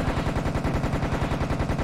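Rapid automatic gunfire from the shooter game Serious Sam The Second Encounter, a loud, steady stream of shots in quick even rhythm filling the whole stretch with no pause.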